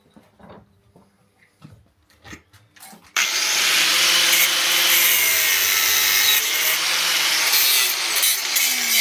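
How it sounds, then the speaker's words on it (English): A power grinder bites into the metal of a Honda Monkey 125cc wheel after a few scattered taps, kicking in abruptly as a loud, harsh, continuous rasp that runs steadily to the end. "I'll grind a thou off it"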